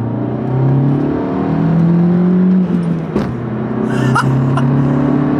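Alfa Romeo MiTo 140 hp turbo with a manual gearbox accelerates hard, a steady loud engine drone rising in pitch with a brief dip at a shift, heard from inside the car with no talk.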